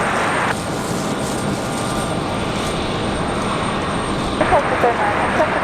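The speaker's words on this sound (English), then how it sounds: "All right, 737 for Delta, off to Atlanta, Georgia." A Delta Boeing 737 airliner departing Raleigh Durham International Airport gives a loud, steady broadband jet roar that holds throughout, heard from an outdoor spotting position with faint background noise.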